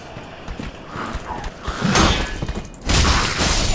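Footsteps in the video game Dark Souls III: a run of loud, close thuds and clattering steps that build toward the end, with no talk over them.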